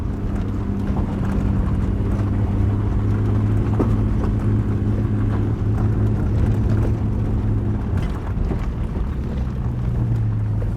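Nissan S13 240SX with an RB25 engine on soft coilovers, driving over gravel: a steady, loud low engine drone with tyre crunch and rumble throughout, the note shifting slightly near the end, no talk.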